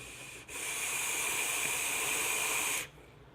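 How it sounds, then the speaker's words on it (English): Steady airy hiss from a Wotofo Troll RTA vape tank drawn through its airflow on a 0.19 ohm coil at 66 watts, close and fairly loud, lasting about two and a half seconds before cutting off. "The airflow doesn't feel turbulent to me in any way, but it is a touch on the loud side"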